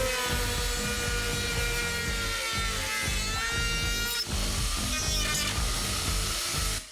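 A wood router spinning at 22,000 rpm cuts into a roof beam, a steady high whine with pulsing, rhythmic grinding underneath, loud and close throughout.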